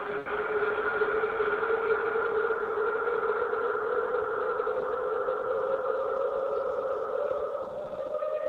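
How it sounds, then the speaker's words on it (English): A gritty, distorted modular synthesizer drone holding two sustained sine-based tones, one slowly gliding upward, buzzing steadily with a rough, fuzzy texture. "smoky distortion"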